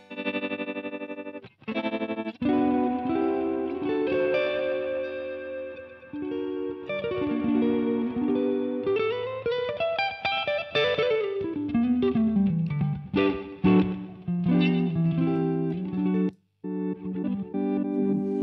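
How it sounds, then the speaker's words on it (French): An electric guitar runs through a pedalboard with tremolo, distortion and chorus, playing sustained, pulsing chords and bending, rising lines that stop and start in short phrases. "C'est un trémolo, là."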